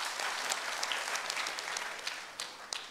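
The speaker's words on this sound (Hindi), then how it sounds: "एक बार जोरदार ताली बजाओ इनके लिए।" Dense audience applause fills the space at a large public gathering in Patna, Bihar, a steady wash of many hands clapping together with scattered sharper claps rising near the end, heard from within the crowd.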